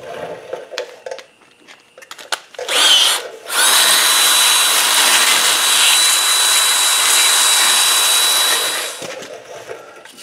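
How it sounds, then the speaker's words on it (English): Power-driven wire brush scrubbing rust from the splines of a Jeep front axle shaft, a loud sustained grinding whir that starts after a few short bursts and runs for several seconds before cutting off. "A little wire brush action on the splines of the axle shaft."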